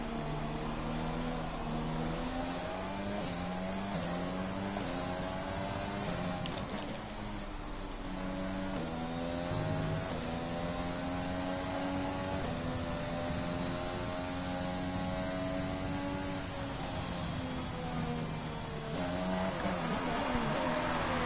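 Formula 1 car engine in F1 2020 racing at Zandvoort, Dutch Grand Prix: a steady, loud harmonic whine that rises and falls with gear changes throughout, continuous with no voices.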